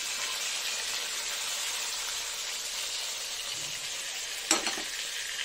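A ground paste of tomato, green chilli, fennel and ginger frying with potatoes in hot oil, giving a constant broadband sizzle with a sharp utensil knock near the end.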